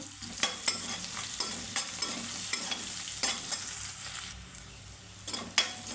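Shredded cabbage fries with salt in a pan, a soft continuous sizzle broken by repeated sharp scrapes and clatters as the spoon stirs it, close and moderately quiet.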